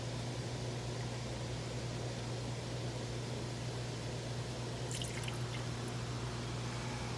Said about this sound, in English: we still have some good water coming out,